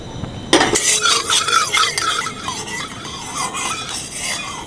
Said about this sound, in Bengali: পনিরটা এবার ভেজে নেব